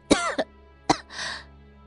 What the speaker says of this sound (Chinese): 永宁公主突然剧烈咳嗽了起来